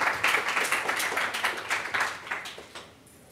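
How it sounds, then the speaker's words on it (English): A group at a diversity lunch program claps together in a quick, uneven rhythm of distinct bursts, fairly close and loud, then tapers off into quiet after about three seconds. "everyone give them a round of applause"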